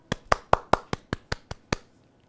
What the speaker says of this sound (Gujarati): તમારા બધા માટે હું જ તાળી પાડી લઉં